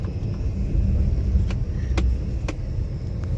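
A car creeps along at very low speed on a rain-soaked road full of water-filled potholes, its low rumble steady throughout, with a few sharp knocks and thuds from the suspension jolting through the holes.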